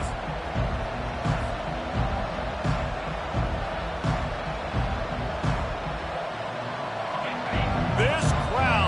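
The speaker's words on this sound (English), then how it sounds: "This crowd, full throat, splitting the eardrums and letting them know it's going to be a long day" Stadium crowd noise in a college football video game with a Michigan dynasty, a steady loud roar that rumbles throughout with a few thumps, while a commentator talks over it.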